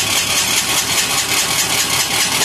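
An Amazon 186FA single-cylinder diesel engine runs on used synthetic engine oil, a loud, steady, rapid mechanical chugging close by, even and unbroken throughout.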